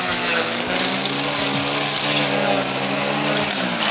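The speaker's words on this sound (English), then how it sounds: "we got a 12 or 16 inch chipper today that we are using to get rid of all these branches, large trees" A 12 or 16 inch tree chipper chews through cedar branches on a lawn care job, a loud sustained engine drone with humming tones and intermittent grinding and clattering.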